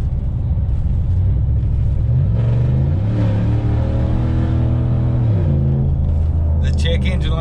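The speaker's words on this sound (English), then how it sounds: "as you can hear, it's got a custom exhaust on it" Chevrolet Silverado LTZ crew-cab 4x4 pickup with a custom exhaust and check engine light on, rumbling close up as it drives, the engine note rising in a rev then settling, with talk over it.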